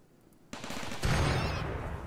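Rapid bursts of automatic gunfire from colony defense guns in RimWorld, starting abruptly and quickly thickening into a loud, continuous fusillade with dense overlapping shots and booming low thumps.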